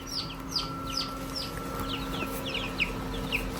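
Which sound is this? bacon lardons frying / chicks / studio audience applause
chicks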